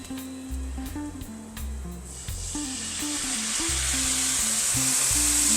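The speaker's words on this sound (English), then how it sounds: "Hear it sizzling already." Steady frying sizzle in a pan, growing louder and hissier over a few seconds, with low clinks and bumps of stirring underneath.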